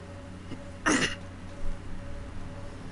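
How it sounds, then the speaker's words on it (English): A man clears his throat once, a short harsh rasp close to the microphone over a quiet hum from a video game, followed by a fainter second grunt. "I have a bad habit of clearing my throat"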